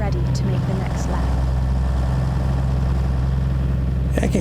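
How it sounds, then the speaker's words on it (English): Cummins N14 diesel engine in a Peterbilt 379 truck in American Truck Simulator, a steady low droning idle-to-cruise rumble heard alone and continuous throughout. "I can get used to this engine."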